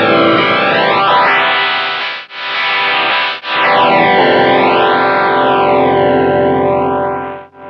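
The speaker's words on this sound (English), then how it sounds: "If we switch the blend type to invert, then we'll have a negative through zero flanger" An electric guitar runs through a Deco tape saturation and doubletracker pedal set to negative through-zero flanging, loud sustained chords with deep sweeping comb-filter swooshes and two abrupt full cancellation dips, no voices.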